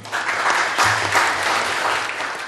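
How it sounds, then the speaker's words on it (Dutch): Audience clapping in a hall at a children's mayor event, a dense steady burst of applause lasting a few seconds, fairly loud and close, with a low hum underneath. "Ik vind dat ik weer een applaus waard"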